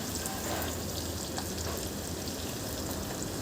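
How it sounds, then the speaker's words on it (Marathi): Onions being sautéed in a pan until brown, a dense, even sizzle of frying that stays loud and continuous, with no voices. "इथे मी ब्राऊन कलर येईपर्यंत छान परतून घेते कांद्याला।"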